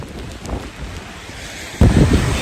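Strong stormy wind of about 40 to 50 km/h buffets the microphone at the sea shore by Pamban while waves surge and crash, a rough continuous roar that swells into a louder, closer burst toward the end.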